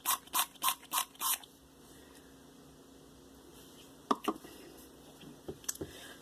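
Five quick, sharp spritzes of homemade mohair conditioner from a spray bottle, evenly spaced and close, followed by quiet handling noises and a few soft taps.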